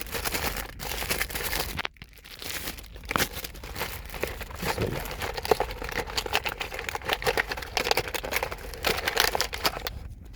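Plastic packaging from an online order crinkles and tears as a watch is unwrapped, a close, continuous busy crackle of handling with irregular bursts and a brief pause near two seconds.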